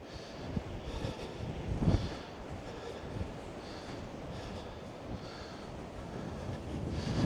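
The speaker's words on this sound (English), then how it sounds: "Yeah, wind is picking up." Gusty wind buffets a microphone on an outdoor coastal walk on the Isle of Man between Castletown and Scarlett, a continuous low rumble with several stronger gusts swelling through it.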